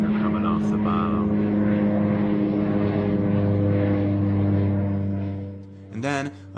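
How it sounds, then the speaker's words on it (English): A low-flying propeller airplane passes overhead in the evening, a loud continuous droning engine hum that holds steady and then fades, with brief voices heard under it. "This plane flew over me this evening and was spraying something."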